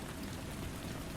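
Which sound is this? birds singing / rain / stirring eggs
rain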